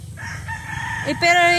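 A rooster crows loudly and close by in a backyard garden. A strained, harmonic call swells near the end over a low rumble of background noise.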